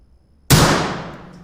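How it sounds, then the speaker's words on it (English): A single loud gunshot cracks suddenly after a moment of silence, then rings out in a long, fading echo down an empty boarding house hallway at night, staged as a sound effect in an audio drama. "A gunshot echoes throughout the halls."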